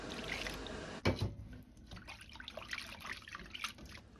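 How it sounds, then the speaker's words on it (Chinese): Clean water pours and splashes over raw pork liver in a bowl to rinse it, a faint trickle that starts with a brief gush and then keeps dribbling softly. "再倒上清水，一定要清洗2到3遍。"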